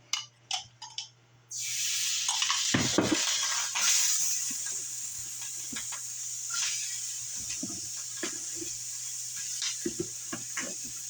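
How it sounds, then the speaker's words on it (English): Peppers sauteing in hot garlic oil in a pan for chicken quesadilla, a loud steady sizzle that bursts in after a few soft taps and carries on under scattered clinks and scrapes. "we're going to saute these in the hot garlic oil"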